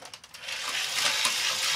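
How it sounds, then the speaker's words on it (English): A faulty Tomy DustBot toy robot gives off a rapid run of mechanical clicks that merge into a steady, gritty rattling whir. "It makes a clicking noise and just kind of doesn't work quite right."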